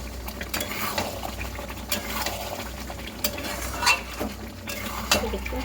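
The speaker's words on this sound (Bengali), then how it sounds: "সব মাংসগুলো তুলে দিয়ে দিলাম। এবার একটু ভালো করে কষাবো।" Meat stir-fried in a pan, a low steady frying hiss with frequent metal scrapes and clinks of the spatula against the pan, fairly close.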